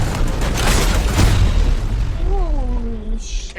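A cannon-equipped car fires during a Fast & Furious chase scene, producing a loud, sustained deep boom and rumbling roar. A voice-like rising tone sounds briefly near the end.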